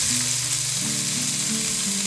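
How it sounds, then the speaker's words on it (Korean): Beef and garlic stir-frying in a pot, a dense continuous sizzle with a faint scraping stir, close and steady throughout with no voices. "냄비에 마늘을 넣고 1분 정도 볶으시다가 소고기를 넣어줍니다."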